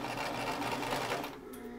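Sewing machine stitching fabric, a steady close whirring hum that runs continuously, then eases slightly toward the end.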